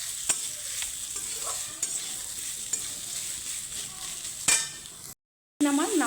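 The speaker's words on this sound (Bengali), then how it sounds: "তো নারকেলটা আমি হালকা একটু ভাজবো।" Grated coconut sizzles softly in a pan as a spatula stirs it in occasional scraping strokes up close, with a brief silence before a voice starts speaking at the end.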